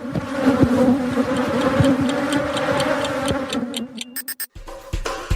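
Bees buzz close up in a dense, continuous drone with a steady hum, broken near the end by a few sharp ticking clicks and a brief drop in the buzzing.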